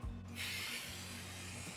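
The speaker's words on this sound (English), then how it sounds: "I'm gonna spray this thing down with duck fat spray" Duck fat spray hissing from a can onto a whole turkey being prepared for a Big Green Egg, one continuous close spray lasting over a second after a brief start.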